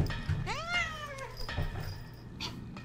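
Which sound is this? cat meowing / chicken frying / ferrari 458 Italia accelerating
cat meowing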